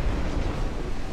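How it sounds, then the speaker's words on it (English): Torpedo hits exploding against a ship in a naval strategy video game, a continuous dull low rumble of explosion and churning water at steady loudness throughout. "Torpedoes away. Two hit."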